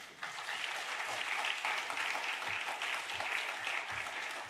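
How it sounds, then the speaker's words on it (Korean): Warm welcoming applause from a church congregation at a Wednesday service, a dense continuous wash of many hands clapping that swells slightly and holds steady for several seconds, heard from a distance at moderate level. "뜨거운 환영의 박수 보내겠습니다."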